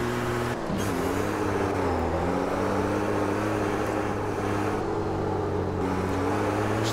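A racing truck in the sim game Automobilista 2 drones with a deep, steady engine note, its pitch dipping then climbing again as it pulls hard, continuous and close with no voices.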